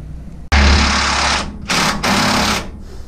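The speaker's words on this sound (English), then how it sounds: "Tightening the last bolt up on the front shock absorber." Tightening the last bolt on a front shock absorber from a 1975 Jeep CJ7, fitted to a 1953 rat rod, with a power tool: loud, close bursts of rapid mechanical rattling, each lasting about a second, separated by short pauses.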